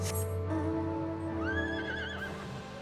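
A horse mount in a video game lets out a loud, close, rising and wavering whinny that lasts around a second, with steady game background sound under it and no speech.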